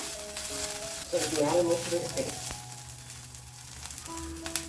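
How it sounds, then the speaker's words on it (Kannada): Garlic, curry leaves and coriander fry in a pan with a steady sizzle and a few stirring scrapes, a brief louder crackle near the start. "ಈ ಥರ ಫ್ರೈ ಮಾಡಿದ್ರೇನೆ ಟೇಸ್ಟ್ ಬರೋದು"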